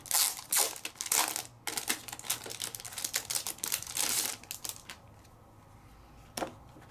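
A 6x6 paper pad is handled close up, its sheets crinkling and rustling in dense bursts before the sounds thin out.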